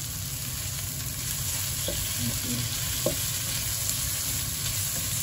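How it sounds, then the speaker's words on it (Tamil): Curry leaves drop into hot oil for a spicy Tamil egg curry, giving a steady, close, dense sizzle with a few soft pops and crackles and no talking. "அடுத்தது நம்ம கருவேப்பிலை போடணும்."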